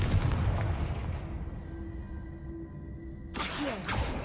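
The Confringo blasting spell explodes in the video game Hogwarts Legacy: a loud booming blast opens and rumbles away into a fading tail, then a second sharp burst hits near the end.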